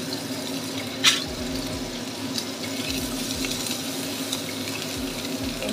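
Cabbage stir-frying in a pan, a steady wet sizzle with scraping and stirring throughout and one sharp clatter near the start, heard up close with no talking.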